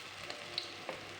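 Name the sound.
sausages frying in a pan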